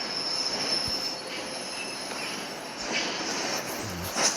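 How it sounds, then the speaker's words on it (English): A train in the video game Hello Neighbor rolls along steadily with a continuous rumble and high metallic wheel squeal, with a few faint clanks. "driving this train is actually very fun"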